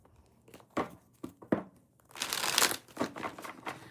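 Close-up shuffling of tarot cards: a few separate taps and riffles, then a longer dense riffle and several more quick shuffles, with no talking.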